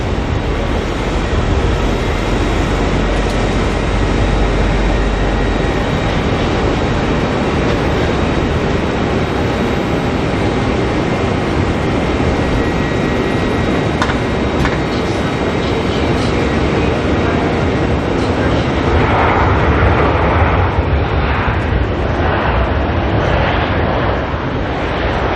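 Qantas QF3 arriving at Auckland Airport produces a loud, sustained jet roar that covers the whole stretch. The broad rumble stays steady and thickens toward the end as the aircraft draws closer.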